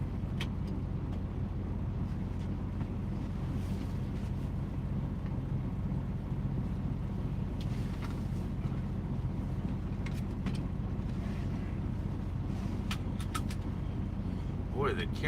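A car drives along a road with a steady, low engine and tyre rumble heard from inside, mixed with wind buffeting and occasional rattles.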